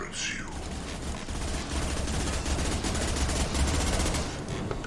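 Rapid sustained gunfire from the video game Mass Effect 2 crackles in dense bursts throughout, layered over game effects and a low rumble.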